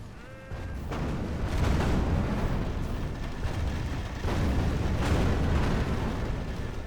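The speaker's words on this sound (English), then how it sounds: "the dwarves combine precision and brute force in the catapults, and it is glorious" Dwarven catapults in a Middle-earth strategy video game fire heavy, rumbling booms that swell and overlap into a dense, continuous roar of battle, loud throughout with two stronger surges.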